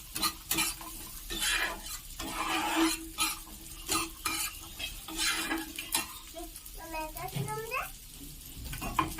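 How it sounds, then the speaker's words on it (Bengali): Cashews and raisins lightly frying in a pan for carrot halwa, soft sizzling broken by repeated stirring scrapes and clinks close by, with a voice talking in places. "আমি হালকা করে ভেজে নেব।"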